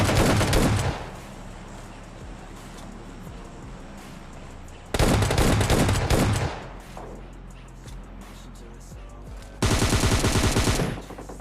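Sprayed gunfire in PUBG Mobile Lite: three loud bursts of rapid automatic fire, each a second or two long, with a quieter gap of lingering sound between them.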